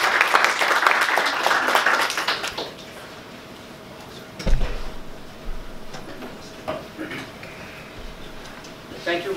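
Applause from an audience at a university talk on the Uyghur human rights crisis, a burst of clapping that fades after a few seconds, followed by room noise, a thump and a voice.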